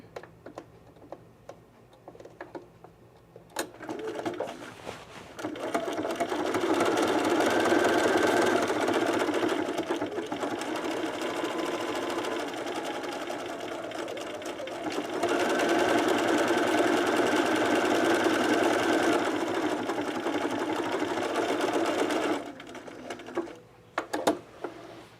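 A sewing machine stitching fabric in two long steady bursts of rapid whirring, ticking stitches, close up, separated by a brief slowdown, with quiet pauses before and after.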